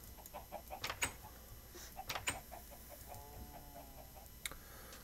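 Minecraft chickens cluck in short, faint, scattered bursts on a free-range farm, with soft ticking blips mixed in against a quiet background.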